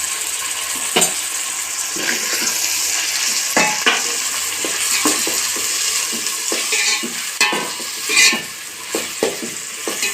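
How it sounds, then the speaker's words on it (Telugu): Tomato pieces frying in a pan hiss continuously while a utensil stirs them, giving irregular scrapes and light clinks against the pan, close and without speech. "ఒకసారి బాగా కలుపుకుందాం"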